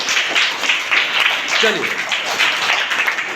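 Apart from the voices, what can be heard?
students applauding, clapping for themselves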